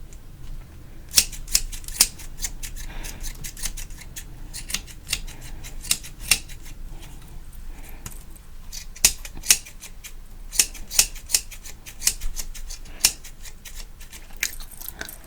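Barber's scissors snip through hair during a haircut, crisp metallic clicks coming in quick irregular bursts, close to the ear and isolated against a quiet background.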